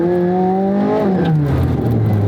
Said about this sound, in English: Drive out of here and try to give it a little bit of gas and see if you can get the wheels to spin